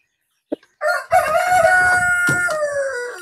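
A Black Australorp rooster crows loudly and close, one long drawn-out cock-a-doodle-doo after a short cluck, with no talk over it.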